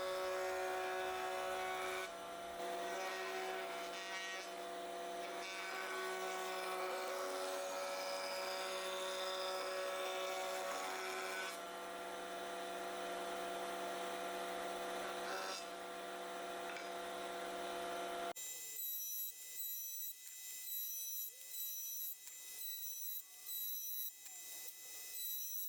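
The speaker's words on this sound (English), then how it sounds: "I took them over to the router to round over the front two corners of each piece" A wood router rounds over the front corners of bread box pieces, a loud steady high-pitched whine with a cutting roar for most of the stretch, then a thinner tonal hum as the bit spins on its own near the end.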